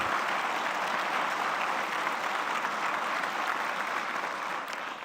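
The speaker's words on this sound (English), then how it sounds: "Let's give another round of applause" Dense, sustained applause from a large audience at a regional State of the Region event, loud and steady throughout before easing slightly at the very end, with no speech over it.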